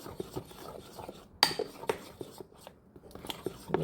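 Sapin-sapin batter, tinted pink, is stirred in a bowl with a utensil, giving soft scraping clinks and a few sharper taps against the dish, close and fairly quiet, with no talk.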